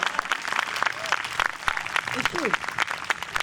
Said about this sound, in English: Collectively, you can clap, go ahead.